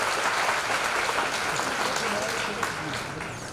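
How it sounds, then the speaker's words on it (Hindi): Audience applause at a Hindi Diwas government ceremony as a guest is welcomed, a dense, fairly even wash of clapping with some speech underneath, moderately distant. "मैं चाहूंगा जोरदार तालियों से इनका स्वागत किया जाए"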